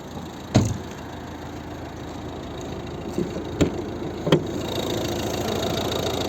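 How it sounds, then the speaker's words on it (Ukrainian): A 2011 Volvo V50 1.6 HDi diesel engine idles with a steady low rumble, broken by a few sharp clicks and thumps nearby. "як працює двигун."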